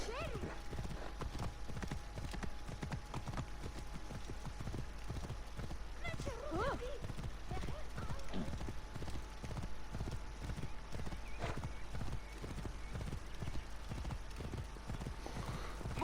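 Horses in Assassin's Creed Origins clop steadily on hard ground with a brief neigh partway through, while someone talks over the hoofbeats.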